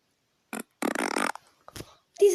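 Cartoonish fart effects from a fart-sound video game: a short blip, then a longer rippling, buzzing blast, followed by a few smaller pops and a final squeak, close and fairly loud.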